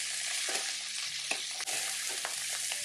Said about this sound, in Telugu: 6-7 పొడువుగా కట్ చేసిన పచ్చిమిరపకాయ ముక్కల్ని, 4-5 చుంచిన ఎండుమిరపకాయల్ని, కొంచెం కరివేపాకును తీసుకుని ఫ్రై చేయండి